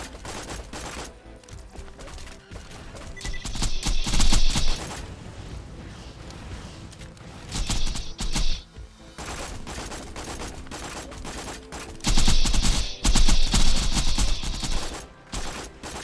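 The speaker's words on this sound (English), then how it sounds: "I think it's the back one that's shooting at me now" Turrets firing in Borderlands during an endgame Digistruct Peak raid as Maya: dense bursts of rapid gunfire that swell into loud volleys around four, eight and thirteen seconds over a constant layer of combat noise.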